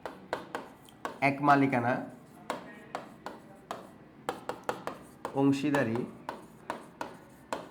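A pen taps and scratches in short irregular strokes while notes are written during a Bengali HSC management class, close and quiet, with a teacher speaking in two stretches between the strokes.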